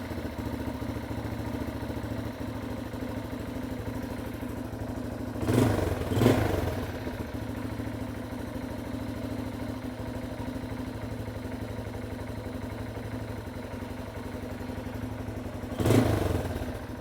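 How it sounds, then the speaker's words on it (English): A motorcycle engine idles after a carburetor clean, holding a steady low rumbling putter with a couple of brief louder blips and clatters partway through. "Now after idling for a few minutes, the idle is coming up."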